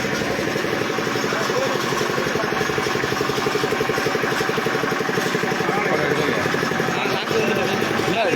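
A vehicle engine runs steadily at a street rally, a continuous mid-pitched idling rumble throughout, with people talking over it.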